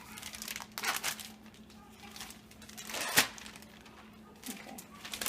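Plastic sheeting, a zippered bag cut open for rolling grain-free tortillas, crinkles and rustles in irregular bursts with one sharp snip near the middle, fairly quiet and close.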